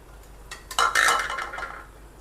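Metal utensil clinks and scrapes against a frying pan as crisp fried boondi for motichoor laddu is lifted out, a short burst of clatter that peaks midway and then fades, with no talking.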